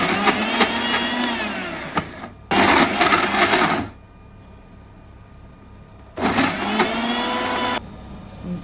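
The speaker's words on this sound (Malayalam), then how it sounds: "ബാക്കി ഉഴുന്നൂടെ നമ്മൾ ഇങ്ങനെ അരച്ചെടുക്കുക" Mixer grinder grinding soaked urad dal into vada batter, heard as three loud whirring motor bursts of one to two seconds each, with short pauses and a longer quiet gap between them, close by and without talking.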